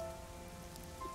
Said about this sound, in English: Don't mind me, it's just the rain, Kurumi, it's just the rain